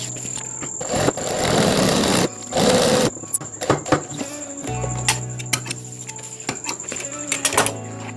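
A sewing machine runs a short stitching pass on a simple, lightweight travel bag, with bursts of whirring motor and needle noise followed by softer handling clicks.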